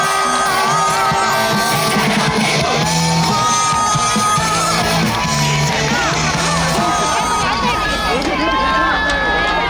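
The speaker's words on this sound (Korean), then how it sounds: "여러분, 20대 대통령 후보 이재명 후보께 큰 박수 다시 한번 부탁드리겠습니다." A large outdoor crowd at a presidential campaign rally on a fountain plaza near Hansung University Station cheers, yells and claps loudly and continuously, with a voice over a PA system ringing through the noise.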